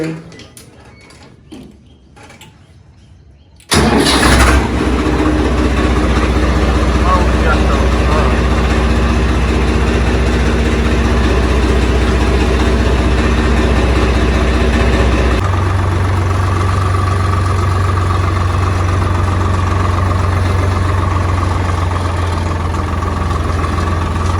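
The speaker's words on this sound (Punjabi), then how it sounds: "ਲਓ ਵੀ ਗਾ ਸਾਫ ਸਫਾਈਆ ਕਰਤਾ ਟਰੈਕਟਰ ਦਾ ਤੇ ਹੁਣ ਮਾਰਾਂਗੇ ਸੈਲਫ" A Swaraj 855 tractor engine cranks on its self-starter and catches, then settles into a loud, steady low idle that drones on; the pitch drops slightly partway through.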